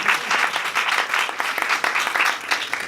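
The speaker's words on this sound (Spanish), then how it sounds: "Un aplauso para Piedad" A seated audience at a Spanish-language public-speaking workshop applauds a participant named Piedad with dense, steady clapping that holds at an even level for the full stretch. No voices come through over the clapping.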